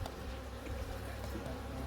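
Honeybees buzzing inside a small mating nuc hive, a continuous even drone heard close up, steady throughout with no voices.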